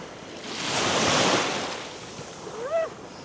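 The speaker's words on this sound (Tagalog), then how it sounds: "Ang lakas ng alon eh." A strong ocean wave surges in with a broad rushing roar that swells and fades, followed by a brief high whistle-like squeak, on the coast of Bataan.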